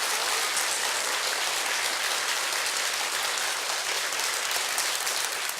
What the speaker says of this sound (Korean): 조유진 소장님께 다시 한번 큰 박수 부탁드리겠습니다